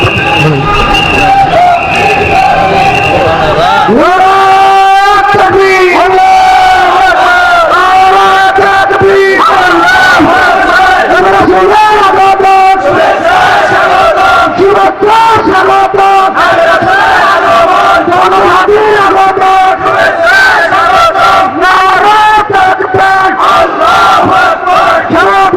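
A large crowd at a Bangla Islamic sermon chants slogans in unison, loud and sustained with rising and falling shouted phrases repeating over and over, filling the whole stretch.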